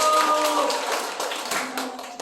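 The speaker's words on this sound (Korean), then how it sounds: "박수 한번 주세요" A youth worship service audience claps for a high school student introducing himself, a brief burst of scattered clapping that thins out and fades.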